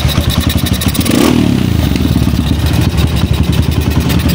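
A Kawasaki KLX 150 motorcycle engine with an untuned carburetor and noisy gas valve turns over and catches, then settles into a loud, rapid, rattling putter close by.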